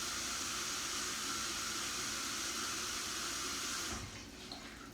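Hot tap water runs steadily into a bowl for about four seconds, a broad constant rush that cuts off near the end, leaving a quieter tail; no one speaks.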